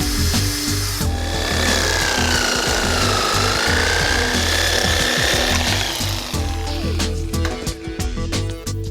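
A power tool cuts an air intake hole in a Jeep TJ body for a snorkel install. It gives a loud, steady, buzzing saw or grind with a wavering pitch for about six seconds, then rattles and taps as it winds down.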